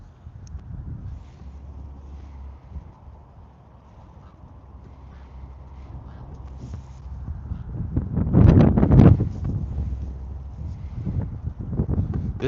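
Wind blowing outdoors on water during a catfishing trip, a rough low rumble buffeting the microphone, swelling to a strong gust in the second half before settling again.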